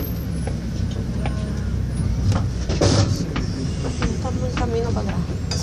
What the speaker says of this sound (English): Tram stop.